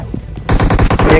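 A Thompson submachine gun fires in a video game: a sudden, loud, rapid burst of close shots that starts after a brief quiet lead-in and continues steadily to the end.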